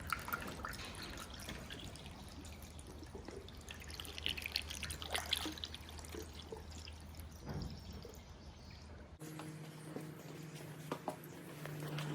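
Coolant poured into the radiator of a KTM 65 dirt bike, a faint, quiet trickle and drip of liquid with a low steady background hum, with no talking.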